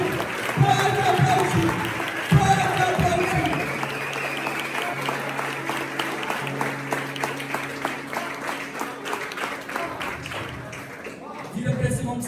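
Church youth congregation applauds for about twelve seconds, a broad, steady wash of clapping with sung or spoken voices and a held instrument tone underneath, thinning toward the end.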